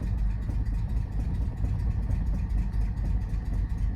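A 1995 Ford Mustang engine runs continuously near the mic, a steady low rumble with slight throttle fluctuations holding it just above a stall, no talk over it.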